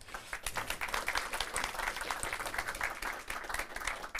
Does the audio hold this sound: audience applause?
yes